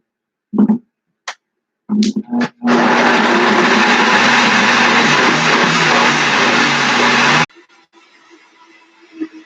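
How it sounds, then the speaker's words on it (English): A kitchen blender runs steadily for about five seconds, loud and close, whirring through lemon zest for a small batch of blueberry jam, after a few brief knocks as it is set up. "Blend this up really quick."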